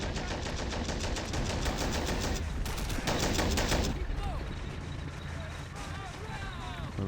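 Distant battle ambience in the Cold War 1975 mod, with continuous rattling machine-gun and rifle fire rolling on steadily in the background while someone talks over it.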